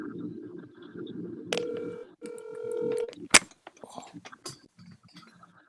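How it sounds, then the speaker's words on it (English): A phone rings with two steady electronic tone bursts over an open virtual convention call, heard faintly under background chatter and followed by a sharp clack and scattered small noises. "We can hear the ringing."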